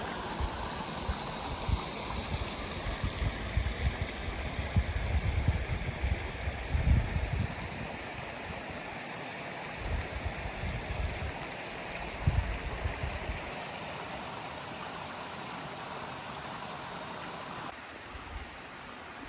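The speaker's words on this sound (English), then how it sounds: "I just had a very relaxing break here at the creek" Snow Creek in Yosemite rushes past as a continuous, broad wash of flowing water, steady and fairly close, with slight surges in the lower rumble and no voices.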